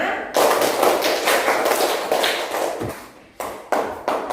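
Schoolchildren in a classroom clap on a counted cue, a sustained burst of many overlapping claps followed by a few sharper separate claps, close and loud.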